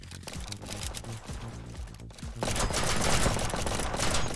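Video-game gunfire from a pistol and other weapons, a rapid rattle of shots at moderate level, with a denser, louder burst of firing in the last couple of seconds.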